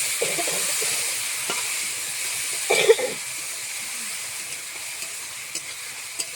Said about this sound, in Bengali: নাড়াচাড়া করে শাকটা দিয়ে দিলাম